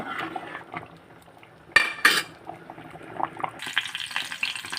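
Garlic and mustard seeds crackle in hot oil for a tempering, with a soft sizzle, broken by a couple of sharp metallic clatters, then a brighter, louder hiss rises near the end.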